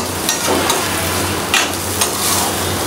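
Marinated dried fish (shutki) frying in oil in a pan, a loud, dense, steady sizzle heard close up, with occasional soft stirring scrapes and no voices.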